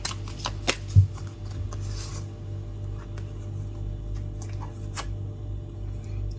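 Tarot cards shuffled by hand during a fortune-telling reading, giving soft, quick papery riffles and clicks close by over a steady low hum, with no talking.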